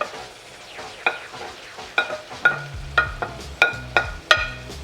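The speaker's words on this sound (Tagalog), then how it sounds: "talagang igigisa natin maigi hanggang sa magkulay brown yung chicken thigh" Chicken thighs sautéing in a pan with onion, ginger and garlic, a steady sizzle broken by repeated sharp clinks and scrapes of a spatula stirring, coming in regular strokes about once a second and growing busier toward the end.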